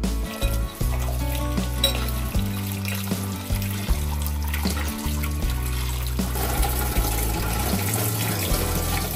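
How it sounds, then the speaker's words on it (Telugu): Sorghum semolina (jowar rava) is washed by hand in water, giving close, rhythmic sloshing, swishing and trickling sounds with repeated splashes over a steady background and no voices. "మన జొన్న రవ్వ కూడా మనం కడుక్కోవాలి."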